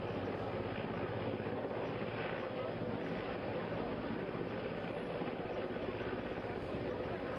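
An Indian Air Force helicopter hovers over a flooded river during a rescue, its rotor and engine roaring loud, close and unbroken throughout, with a voice faintly under the din.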